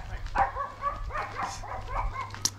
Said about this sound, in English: I'm getting barked at by dogs.